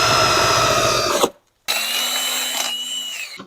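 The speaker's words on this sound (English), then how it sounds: "So now I'm going to drill those holes out with a 17/64 drill bit." Power drill boring holes with a 17/64 bit into metal while fitting a tailgate table on a Jeep TJ: steady whining drill for over a second, a brief pause, then a second sustained run that fades at the end.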